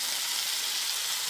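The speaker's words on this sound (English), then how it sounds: "Come look at this pork belly chop suey in front of you with the sizzle." Pork belly sizzles steadily in a hot pan, a dense, even crackling hiss with no voices.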